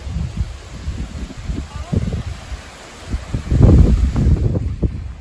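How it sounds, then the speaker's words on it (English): Gusty wind buffets the microphone in low rumbling bursts on a boardwalk trail in St. Marks National Wildlife Refuge, strongest near the end, with faint rustling in the background. "It's a little windy."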